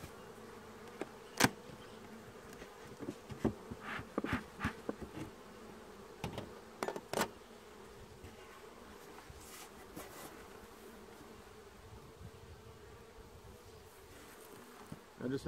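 Honey bees buzz steadily during a hive inspection, a low droning hum with scattered clicks and knocks from handling the hive frames.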